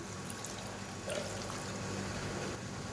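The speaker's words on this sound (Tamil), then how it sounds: "இப்போ தேவையான அளவுக்கு தண்ணி சேர்த்துக்கலாம்." Water pours into sambar in a pressure cooker, making a continuous, fairly loud rushing splash that stays steady for a few seconds without pause.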